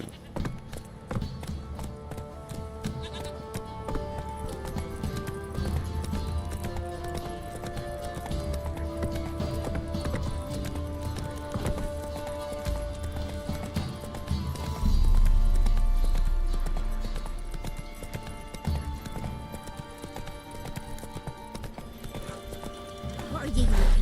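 Roach the horse gallops in The Witcher 3, hooves clip-clopping in a steady rapid rhythm with an occasional whinny, heard under game music and character voices that speak throughout.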